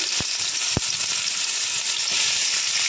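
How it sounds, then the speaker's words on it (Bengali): Chopped onion fries in hot mustard oil with a steady, close hiss and sizzle throughout, broken by two sharp clicks near the start. "তো প্রথমে এই যে পেঁয়াজ কুচি ফোড়ন দেবেন,"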